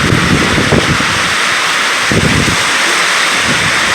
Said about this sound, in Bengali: অঝোরে বৃষ্টি হচ্ছে, দেখেছো?